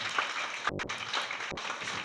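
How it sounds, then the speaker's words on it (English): An audience at an auction in a new ranch facility applauds, a faint, steady patter of clapping from a crowd with a couple of brief gaps. "A nice round of applause for a very nice"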